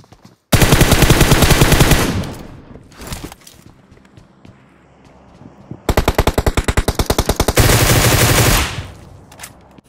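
Two long bursts of rapid automatic fire from a Groza rifle in PUBG Mobile, loud and close, with quieter footsteps and movement in the gap between them.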